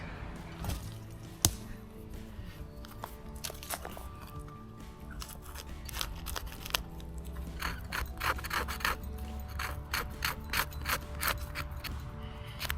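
A blade scrapes the damp surface layer off wood for fire-lighting, making repeated close rasping strokes with scattered clicks, growing busier and more rhythmic toward the end.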